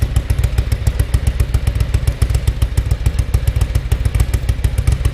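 A 1987 Ducati F1 750 TriColor Italian race bike engine runs loud and close, with a fast, even, throbbing pulse and a mechanical clatter that holds steady throughout.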